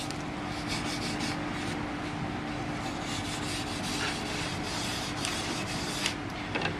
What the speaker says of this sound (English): So what the burnishing's doing is it's smoothing out the Bole